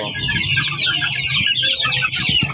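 Several roosters and chickens clucking and chattering close by, a busy overlapping flock of young males of mixed gamefowl bloodlines with no talk.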